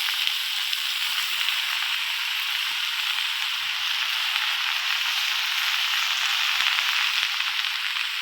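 Wood sorrel greens cooking in a wok, a soft, steady sizzle and hiss with a few faint pops and crackles, constant and near, with no talking.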